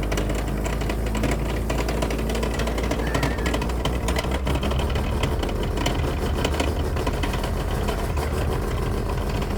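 A Mazda RX7 rotary engine runs at a steady idle, a continuous buzzing, rapid-pulsing drone heard close with no speech, holding an even level for the whole stretch.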